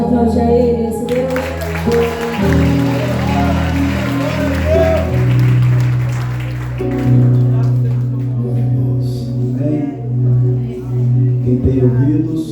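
A congregation at a Portuguese-language celebration church service breaks into sustained clapping over loud, sustained music, the applause thinning out after several seconds while the music carries on.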